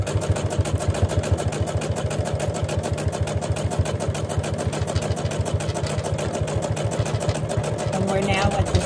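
A sewing machine stitches a fabric bowl koozie, its needle hammering in a fast, even rhythm that runs unbroken and close throughout, with a mechanical hum underneath.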